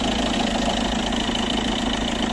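A 2014 Ford Galaxy with a 2-litre turbo diesel engine idles close by, producing a loud, steady rumble with a faint knocking clatter and no talking.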